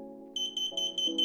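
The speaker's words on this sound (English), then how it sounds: "And now the buzzer." A Grove kit electronic buzzer on a UDOO BOLT board beeps in a steady repeating pattern of short high-pitched tones over a low electrical hum.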